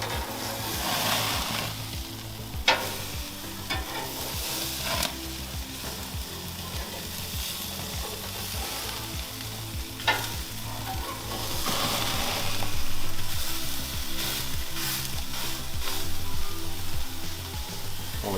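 Burgers sear on the sear grate of a Weber Genesis 2 gas grill with a constant, loud sizzle and spatter, close and unbroken, with a few sharp knocks along the way and no voices.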